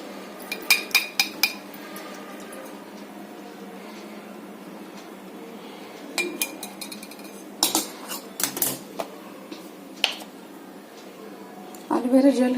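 Homemade hair oil strained in a home kitchen, with repeated metallic clinks and taps of utensils against a pot or vessel, some close and sharp, over a steady background hum.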